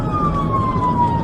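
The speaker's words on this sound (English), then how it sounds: "a police cruiser traveling in the opposite direction, rushing to a different emergency with its lights and sirens on" A police cruiser's siren wails as the car speeds past in the opposite direction to another emergency, a loud steady tone gliding slowly downward over road noise.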